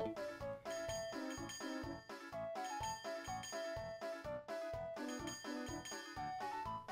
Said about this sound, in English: Just keep ringing that bell and hope for the best.